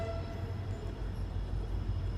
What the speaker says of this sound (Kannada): ನಮ್ಮ ಟ್ರೈನು ಪ್ಲ್ಯಾಟ್ಫಾರ್ಮ್ ನಂಬರ್ 3ಕ್ಕೆ ಅರೈವಲ್ ಆಗಿ ಡಿಪಾರ್ಚರ್ ಆಗಿದೆ ಯಶವಂತಪುರ ಜಂಕ್ಷನಿಂದ